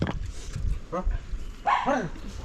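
Several short barks from a dog in a forest tribal village in the Nilgiris ring out fairly close, one near the start and a louder burst toward the end, mixed with people talking.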